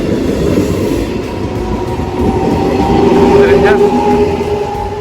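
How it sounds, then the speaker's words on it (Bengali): A double-decker train at a station near Lake Maggiore rumbles steadily with a low continuous drone and faint metallic squeal, heard close with people's voices faintly under the noise. "এটা ডাবল টেকার ট্রেন।"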